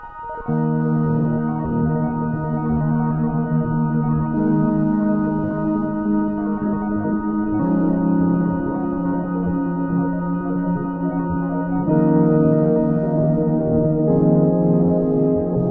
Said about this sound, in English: a sound bank of FM pads that I made for the Korg Opsix